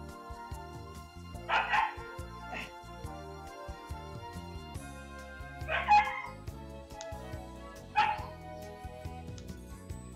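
Young Great Danoodle puppies about six weeks old yip and whimper in short bursts around 1.5, 6 and 8 seconds, heard over a steady background hum, with some brief higher squeaks between the bursts.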